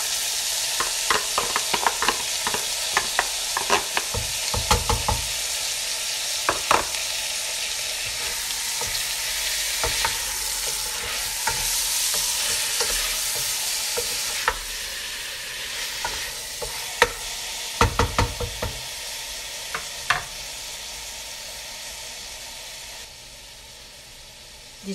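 Meat browns in a pot for couscous with a continuous loud sizzle and hiss, broken by frequent scraping stirs and clinks of a utensil against the pot, no voices.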